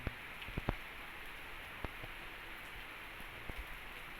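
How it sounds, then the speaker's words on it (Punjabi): Very heavy rain pours down in sheets across the Malwa region of Punjab on an August morning, a steady wash of hiss broken by a few sharp drips and splashes close by, with no voices. "ਇੰਨੀ ਜ਼ਬਰਦਸਤ ਬਾਰਿਸ਼ ਹੋ ਰਹੀ ਹੈ ਕਿ ਹੱਦ ਤੋਂ ਪਰੇ ਐ"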